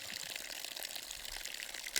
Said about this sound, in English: start by filling my bag about halfway up with water